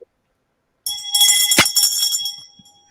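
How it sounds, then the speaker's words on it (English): A small bell is struck once and rings with a bright metallic tone, close by and alone, its shimmering overtones fading over about two seconds after silence. "Can you hear my bell or not?"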